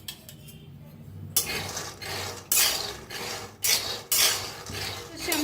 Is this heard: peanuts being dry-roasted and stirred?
yes